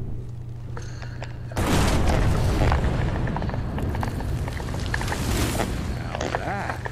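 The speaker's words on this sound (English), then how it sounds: "Now that is how you shape an explosion." A sudden, loud explosion in the Evil West video game bursts in about a second and a half in, then gives way to a long, dense rumble of crackling debris that stays loud to the end.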